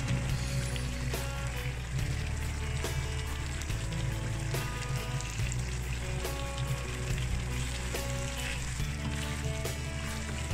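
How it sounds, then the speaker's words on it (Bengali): Egg korma frying in a pan after fried onions go in, a steady low sizzle and bubbling that runs throughout with faint intermittent stirring clicks, no talking. "এখন আমি এখানে কিছু পেঁয়াজ বেরেস্তা দিয়ে দিব।"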